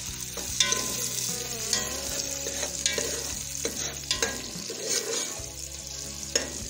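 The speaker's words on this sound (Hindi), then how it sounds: "यहाँ पर हम इसके अंदर डालेंगे प्याज, इसको गोल्डन ब्राउन होने देंगे।" Onions frying in a pan for Kashmiri pulao with black chickpeas, a steady close sizzle with occasional stirring clinks and scrapes, no voices over it.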